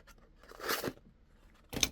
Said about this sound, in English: I'm just going to cut open this box